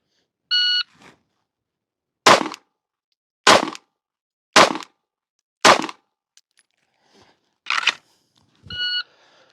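Four sharp gunshots fired at a shooting range, spaced roughly a second apart, loud and close, with an electronic shot-timer beep before the string and another beep after.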